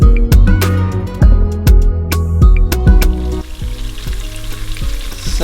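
Onions go into a hot pan of oil while cooking chicken gizzards, bursting into loud sizzling with repeated sharp crackles and stirring scrapes, then settling into a steady, softer fry.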